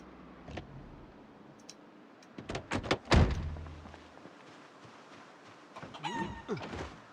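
Chickens in the Project Zomboid video game, with short clucking and fowl calls mixed with thuds and a door-like knock, a loud burst around the middle and a cluster of calls near the end, heard at moderate distance.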